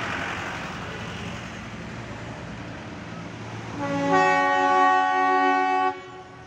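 A diesel locomotive on the Darjeeling railway rumbles along, then sounds a loud, sustained horn blast lasting about two seconds before cutting off, with the engine noise continuing underneath.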